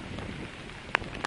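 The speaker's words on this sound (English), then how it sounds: "So here it is a bit wet, a bit rainy, as you can see." Rain falls steadily outdoors at a National Trust estate on a wet bank holiday, a soft continuous hiss with two brief louder drips or splashes near the end.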